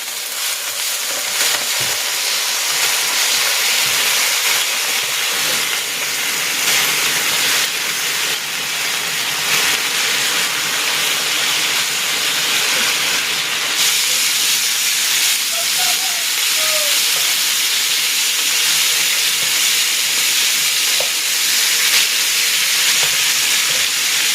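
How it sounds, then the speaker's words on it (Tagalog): Chicken searing in hot cooking oil in a pan, a loud, continuous close-up sizzle and hiss that holds steady throughout, with faint scattered clinks beneath. "Maglalagay ako ng cooking oil. I-sear ko muna itong chicken."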